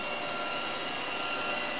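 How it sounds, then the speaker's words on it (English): A robot vacuum cleaner runs close by with a steady, even whirring drone and no speech. "Who needs a vacuum when you got a robot vacuum?"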